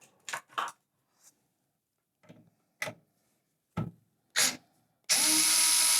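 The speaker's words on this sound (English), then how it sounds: "So what I need to do is remove these screws here." A power screwdriver removes screws while a sim racing PC is being built: a few short bursts of whirring and clicks separated by pauses, ending in a longer sustained whir, close and clear with no talking.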